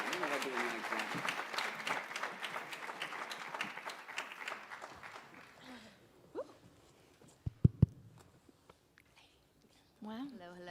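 Audience clapping at a literary activism summit as panelists walk to the stage, lively applause that fades after about five seconds, leaving a few thumps and a voice at the end.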